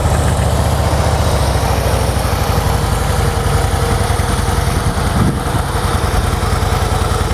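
A Harley Davidson Deluxe motorcycle with factory exhaust idles nearby, a loud, steady, even low-pitched chug running throughout without speech.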